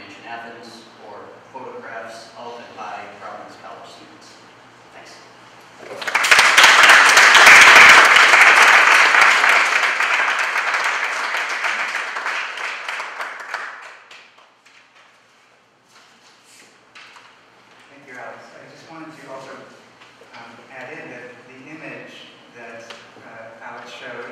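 An audience at a Providence College talk bursts into loud, sustained applause lasting about eight seconds and slowly fading, with a speaker's voice heard before and after.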